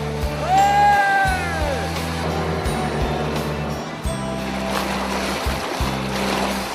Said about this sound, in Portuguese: Agora, na represa do Passaúna, a nossa navegação vai ser no barco a motor.